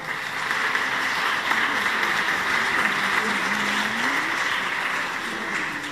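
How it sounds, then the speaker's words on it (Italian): An audience at an international painting award ceremony applauds in a steady, dense wash of clapping that holds evenly throughout. "facciamo un applauso a Pitturiamo"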